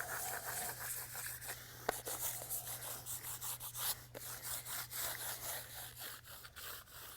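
A trowel burnishing a freshly applied concrete microtopping skim-coat overlay makes steady, repeated scraping and rubbing strokes, close and moderately quiet, with no talk over it.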